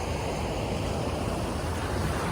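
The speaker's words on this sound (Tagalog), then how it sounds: "So medyo malakas pa rin yung alon" Strong ocean waves roll in with a constant, dense roar of surf and wind noise, loud and unbroken throughout, with no voices.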